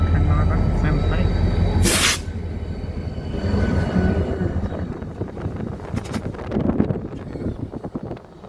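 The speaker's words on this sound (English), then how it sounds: "There's a Burlington Northern locomotive." A BNSF locomotive, formerly Burlington Northern, rumbles past outdoors with a steady low roar and wind buffeting the microphone, while someone talks over it.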